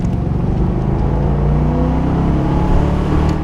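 The V8 of a Hawk 289 Cobra sports car holds a loud, steady, close rumbling drone with no break in its tone.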